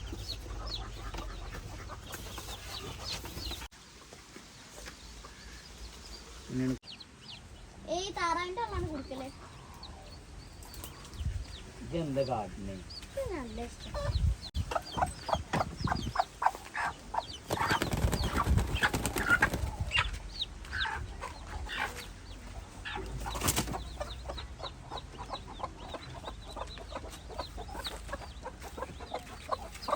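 Native hen and chicks clucking and peeping nearby, with repeated short calls throughout and a person talking over them at times.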